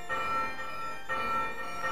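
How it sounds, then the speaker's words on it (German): A bell rung in the Demon's Crest video game gives a sustained, ringing metallic tone with two struck peals about a second apart, each decaying slowly, heard alone at a modest level. "Wo ich diese Glocke jetzt läute?"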